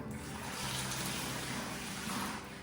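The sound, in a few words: water poured into a bucket for mixing Sika grout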